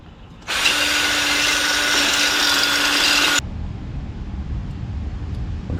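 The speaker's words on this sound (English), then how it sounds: "drill those and bolt it into place" Power drill boring holes into the front fender of a vintage mini dirt bike under restoration: a loud, steady whirring whine holds for about three seconds, then cuts off, leaving quieter workshop noise.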